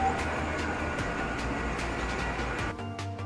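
A train at Karjat station gives a steady close rumble with rhythmic clanks, then the noise drops abruptly to a lower hum near the end.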